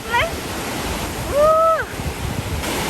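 Ocean waves wash steadily onto a beach with broad, constant surf noise and some wind buffeting, while brief voices come through over the top.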